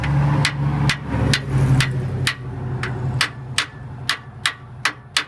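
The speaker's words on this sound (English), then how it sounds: "Give me a little hammer and do some pecking on these." Sharp metallic taps from a small hammer on the engine parts of a 1953 Needlenose Peterbilt truck, about a dozen evenly spaced strikes over a low engine hum, becoming clearer and more distinct toward the end.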